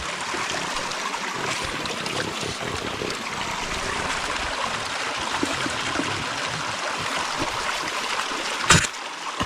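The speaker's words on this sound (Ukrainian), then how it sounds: "Вы решили перейти цей струмочек?" A small forest stream flows close by with a steady, bright trickling and babbling, continuous and even throughout, with one brief splash near the end and no voices.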